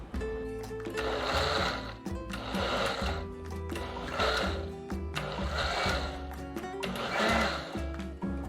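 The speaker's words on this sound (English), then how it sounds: "Now I'm not gonna blend it. I'm only gonna pulse it about 4 or 5 times" Blender pulsing chunky tomato sauce for chicken and potatoes: five short motor bursts of about a second each, evenly spaced with brief gaps, loud and close with a whirring, grinding tone.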